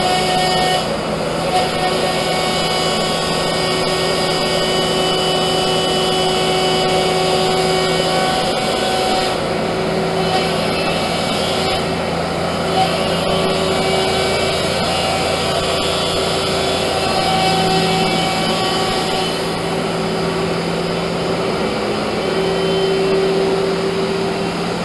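A Leifeld PLB 1200 spinning lathe runs with its 25 horsepower headstock motor, giving a loud, steady mechanical hum layered with sustained whining tones that hold for the full stretch with only slight shifts.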